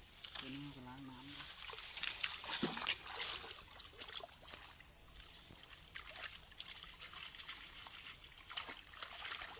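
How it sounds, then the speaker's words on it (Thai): Fish rinsed under running water to wash off dust and dirt, a soft steady trickle and light splashing close by under constant outdoor hiss, with a brief voice near the start. "ตัวนี้ก็ล้างน้ำ"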